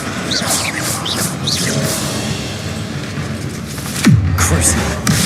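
Incendio, a fire spell from Hogwarts Legacy, is cast amid steady game noise. A whooshing burst swells near the end, followed by a short crackling flare.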